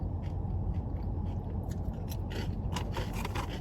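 Crunchy lunch food, eaten with chips on the side, is bitten and chewed close to the microphone. The crackly crunches come repeatedly and faster near the end, with no talking.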